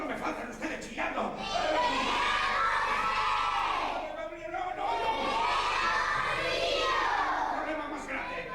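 Children in a theatre audience at a live children's play shout and cheer together in a loud, sustained crowd roar that swells, briefly dips, then rises again.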